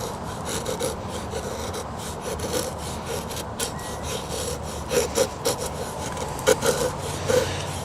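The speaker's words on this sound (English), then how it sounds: "it does make decent shavings once you get the hang of it" A knife carves feather stick shavings from a piece of wood, producing repeated scraping and rasping strokes at a close, moderate level, with a few sharper catches near the end.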